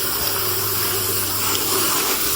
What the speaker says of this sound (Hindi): ये चार्ली साहब हमारे ट्रैक्टर को धो रहे हैं।